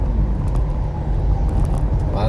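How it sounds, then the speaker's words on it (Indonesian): A truck overtakes from the right on a non-toll highway between Bangil, Pasuruan and Probolinggo, heard from inside a moving car as a loud, steady low engine and road rumble filling the whole stretch. "Saya disalip oleh kendaraan truk yang dari kanan"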